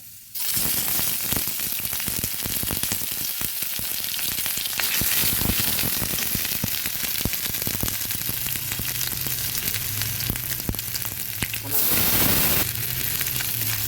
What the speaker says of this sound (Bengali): আদাটা কিছু ভাজা হয়ে আসলে